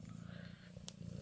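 A house cat purrs softly with a low, continuous rumble, very faint and close, with a slight break partway through and no speech.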